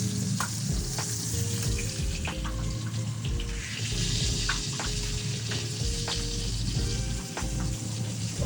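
Scallops searing in a pan give a steady, close sizzle with intermittent light clinks and kitchen clatter over a continuous hiss.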